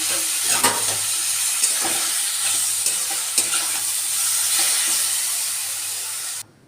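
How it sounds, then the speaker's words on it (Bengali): Maggi pasta stir-fried with capsicum, carrot, potato and onion, giving a steady close sizzle and hiss throughout with repeated scraping stirs, then cutting off abruptly at the end. "এদিকে ক্যাপসিকাম গাজর আলু পেঁয়াজ ভাজা হয়ে গেছে আর এখন এর মধ্যে দিয়ে দেবো পাস্তাটা ম্যাগি পাস্তা"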